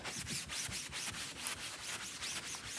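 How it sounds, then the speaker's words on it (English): A well-worn board eraser rubs chalk paste off a mesh stencil in quick back-and-forth strokes, a close, soft scratchy swishing repeated about a dozen times at a steady rhythm. "I have a very old and loved board eraser, so let's just go ahead and rub that."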